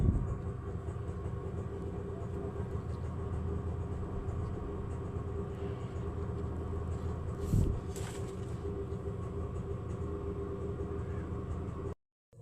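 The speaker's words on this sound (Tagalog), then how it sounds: "padaanin mo natin ang tricycle." A motorized tricycle rumbles past on the road with a steady, droning engine that holds for several seconds and then cuts off abruptly.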